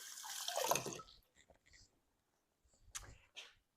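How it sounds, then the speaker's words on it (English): Hands rinsed under a running kitchen tap while making lemon tiramisu: a loud splashing burst of water for about a second, then a few faint drips and two short later splashes. "rinse my hands off again"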